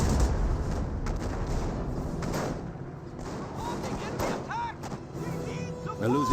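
Stuka rocket artillery fires in Company of Heroes, a run of booming blasts and thuds mixed with battle noise, heard under steady commentary.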